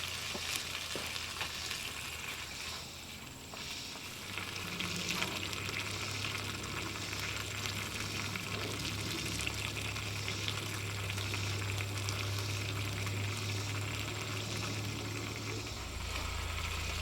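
Leftover spaghetti warms in a pan with a constant close sizzle and frying crackle, plus occasional stirring scrapes and a low hum underneath. There is no talking.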